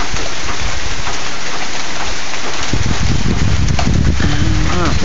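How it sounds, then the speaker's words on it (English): Dense, loud hail pelts a metal roof in a constant roar of rapid impacts, with a low rumble swelling partway through. "you can hear the hail here out front"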